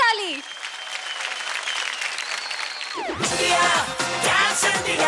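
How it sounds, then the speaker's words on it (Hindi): Audience applause after a dance performance on a televised dance competition stage, a dense roar of clapping and cheering that swells loudly after a brief swooping musical sound at the start. "ताली"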